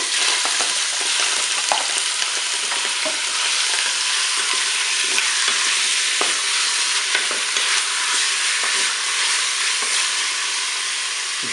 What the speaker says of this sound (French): je vais faire revenir mes morceaux de viande